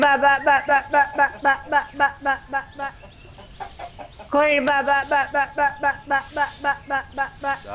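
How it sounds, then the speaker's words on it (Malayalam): A chicken clucks in a rapid, rhythmic series of close, sharp calls, pausing briefly before a second louder burst of clucking follows. "കോഴി"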